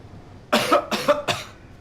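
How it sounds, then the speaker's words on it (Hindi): Three loud, close coughs from a man at a doctor's examination in a hospital, forced on request, evenly spaced about half a second apart after a brief quiet start. "खांसी करो।"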